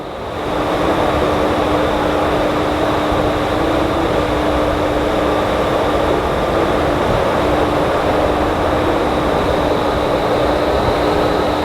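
Steady, loud roar of the RipCord by iFly skydiving simulator wind tunnel aboard a cruise ship, a continuous broadband rush of air with a constant hum running unbroken throughout, no voices.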